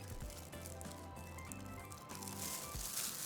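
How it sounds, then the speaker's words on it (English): Marinade poured over cubed flank steak in a bowl, a soft wet squishing and pattering that swells toward the end, close and low in volume. "Now just pour your marinade."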